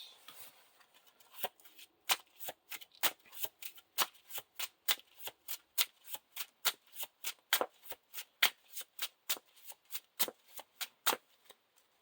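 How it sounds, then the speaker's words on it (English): Repeated crisp riffles of a deck of cards being shuffled, a steady series of quick papery bursts at a close, moderate volume. "So we have to shuffle this"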